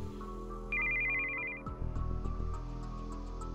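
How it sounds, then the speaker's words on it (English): Incoming-call ringtone on a cell phone in the visual novel Steins;Gate 0, a steady high electronic tone followed by a rhythmic run of melodic beeps over background music, clear and moderately quiet. "I heard the sound of an incoming call on a cell phone."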